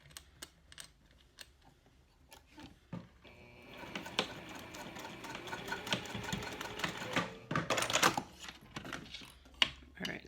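A sewing machine stitches in short bursts, then runs in a longer continuous whir with mechanical clatter, stopping and starting near the end.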